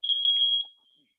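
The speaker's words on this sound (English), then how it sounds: "I know we got an alarm going on." A smoke alarm going off during an algebra lecture: one loud, shrill electronic beep held for just over half a second before it cuts out, heard close and clear on its own.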